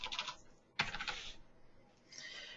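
Quick typing on a computer keyboard in an office setting: a brief run of soft close clicks, a pause, then another short burst, with no talking.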